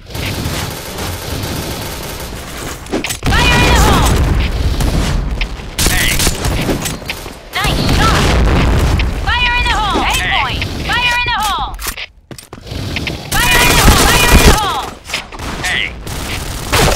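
Grenade blasts and bursts of gunfire in the shooter game Point Blank, with repeated rapid firing and booms over a busy mix, while players talk and shout over the action.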